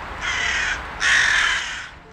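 Two loud, drawn-out crow caws ring out close by, the second longer and stronger than the first, with no other sounds around them.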